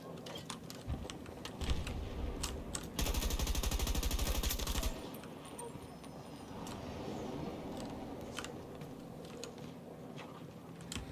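Rapid automatic gunfire in Battlefield 2042 rattles off as dense bursts, peaking in a sustained, loud volley midway, set over steady battlefield ambience with no talk.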